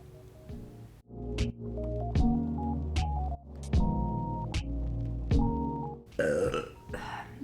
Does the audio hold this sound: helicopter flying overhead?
no